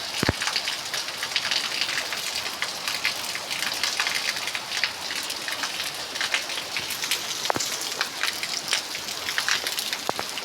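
Rain pours steadily onto an empty, soaked street, a dense even patter of drops with occasional sharper splats, continuous and fairly close, with no voices or traffic.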